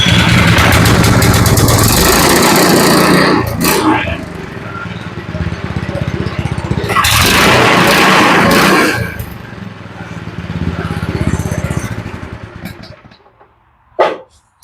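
A go-kart's petrol engine starts and runs loud and close, rough and rattling, surging and easing over several seconds before cutting out near the end.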